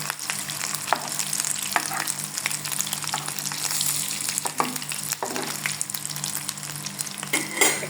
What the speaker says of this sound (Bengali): একটু লাল লাল করে ভাজতে দিতে হবে